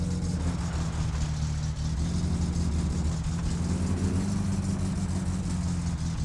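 Unmuffled car engine in the My Summer Car driving game, idling with a loud, steady low rumble and strong harmonic drone that barely wavers, with a brief dip in revs partway through.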